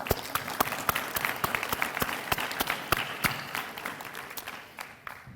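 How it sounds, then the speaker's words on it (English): A meeting audience gives a round of applause at a workforce advisory gathering: dense, steady clapping from many hands that fills the room for about five seconds, then thins toward the end. "I'd just like you to join me in a round of applause for them."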